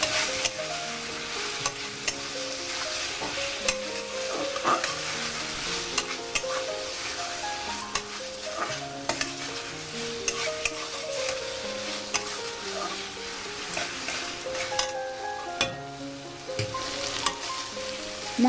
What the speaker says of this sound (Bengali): পুরো মশলাটা খুব সুন্দরভাবে কুঁদরির সঙ্গে মিশিয়ে নেব।